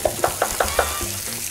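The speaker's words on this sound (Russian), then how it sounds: "обжарю его на сковороде на растительном масле" Finely chopped onion sizzles in vegetable oil in a pan, with a steady frying hiss and a few quick rhythmic stirring taps close up.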